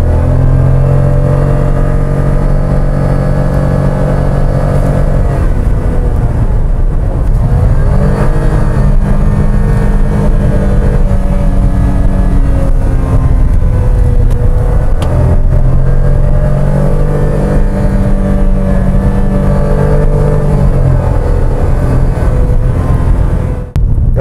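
Toyota Raize engine pulling hard uphill in power mode, a loud, steady mid-pitched drone that rises and falls with gear changes, heard from inside the cabin with no talking.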